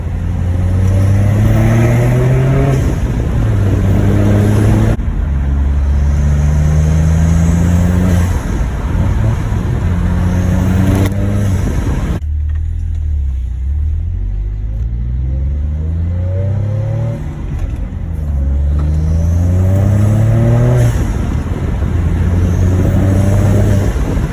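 Saab XWD with a new 3-inch stainless exhaust pulls away and accelerates through several gears, loud rising engine sweeps with shift breaks and road noise, no voices.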